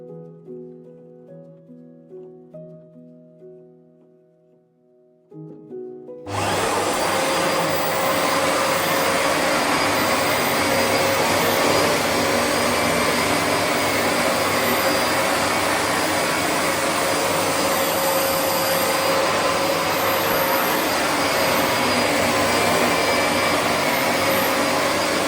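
A VAX Platinum Power Max carpet cleaner switches on after a few seconds of quieter tones and then runs loud and steady, a broad continuous roar of motor and suction that fills the rest of the clip without pause.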